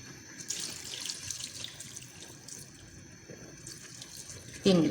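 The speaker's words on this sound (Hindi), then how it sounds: "तीन गिलास पानी डाल दें।" Water runs into a cooking pot on a stove in a soft, steady stream, with a louder splash near the end; no one speaks.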